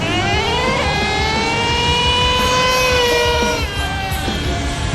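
A Traxxas Revo 3.3 nitro RC truck with a two-speed transmission zooms past, its small nitro engine giving off a loud, continuous high-pitched whine that rises and falls in pitch as it accelerates and shifts.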